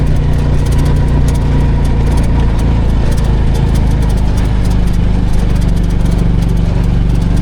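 A Piaggio Ape City auto rickshaw engine running in fourth gear while driving, a loud, steady, rough drone with constant rattle throughout, close by and without talk.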